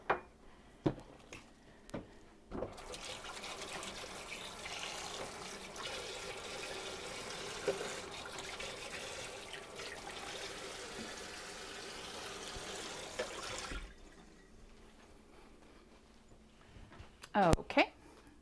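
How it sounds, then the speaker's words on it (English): Kitchen tap water runs steadily for about eleven seconds as hands are washed while baking scones, a broad continuous rush that stops abruptly, bracketed by a few clatters, brief thumps and some speech. "now I'm gonna go wash my hands"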